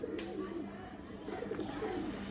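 Ordinary Madras flying pigeons coo in low, bubbling bursts at close range, the phrases repeating through the moment over a steady hum of surrounding noise.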